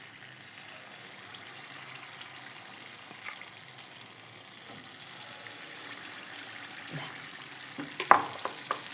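Jackfruit unniyappam batter fries in an appam pan with a soft, continuous sizzle close by, joined near the end by a few light clinks and louder bubbling bursts.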